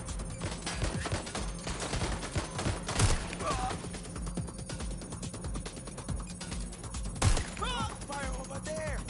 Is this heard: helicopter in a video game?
no